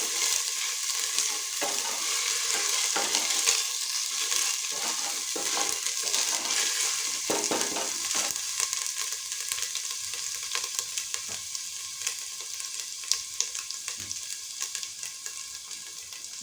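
Ingredients for bhog khichuri sizzle in a pan while being stirred, producing a continuous bright frying hiss with repeated scraping strokes and clinks, close and fairly loud, with no voices.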